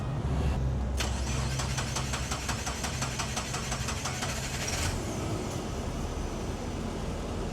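A neglected car's engine cranks with a fast, rhythmic starter whir for several seconds, catches, and settles into a loud, steady idle close by.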